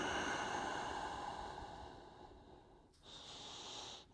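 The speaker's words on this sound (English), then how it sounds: "Nice big deep breath." Slow, deep breath drawn in and let out during a forward-hanging back stretch, close and fairly quiet, a long airy exhale followed by a brief pause and a second breathy push, with no talking.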